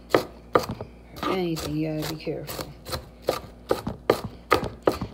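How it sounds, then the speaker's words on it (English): A knife chops onion on a cutting board in sharp, close, rhythmic knocks, about a dozen strikes that pause briefly while a person speaks. "Chopping onion,"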